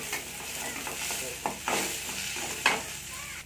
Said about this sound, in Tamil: வெங்காயம் வதங்கிட்டு இருக்கும்போது நம்ம கருவேப்பிலையும் கொத்தமல்லியும் சேர்த்துக்கலாம் சேர்த்து நல்லா வதங்கிக்கலாம்